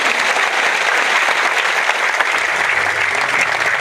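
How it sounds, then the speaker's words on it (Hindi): A crowd at a rally over cow protection and cow shelters bursts into loud, sustained applause for three men who held a nine-day hunger strike, a thick, unbroken roar of clapping close at hand. "एक बार इनके लिए जोरदार तालियां बजाएं"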